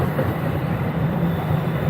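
A train rumbles past near Dealey Plaza, a steady, loud low roar of rail noise that fills the whole moment without change or speech.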